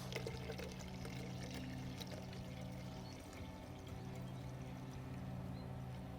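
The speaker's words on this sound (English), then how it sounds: "And then you pour in 2 cups of warm water just to help it dissolve." Two cups of warm water are poured into a homemade garden pest trap, a steady, soft, continuous trickle close by with no pauses or voices.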